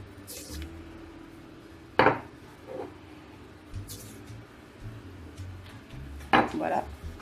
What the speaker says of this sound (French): Voilà, on fouette.